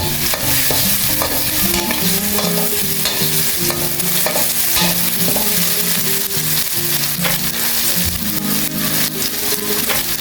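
Spice paste for a basil stir-fry with red ant eggs sizzles loudly in a pan, with constant rapid scraping and clattering of a spatula over the hiss.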